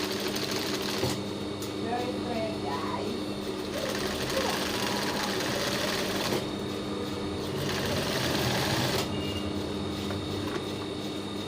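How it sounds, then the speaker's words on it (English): A sewing machine runs steadily while stitching a quarter-inch seam on a turn-up sleeve, its motor hum and rapid needle clatter continuous and close, with a few brief pauses. Someone talks over it. "I'm going to neatly sew 1/4 inch, and I will make sure that it is well aligned and straight"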